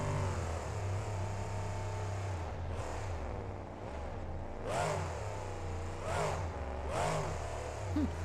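A truck engine in the BeamNG Drive driving game revs loudly and steadily, its pitch swelling and dipping in several repeated surges, with no voices over it.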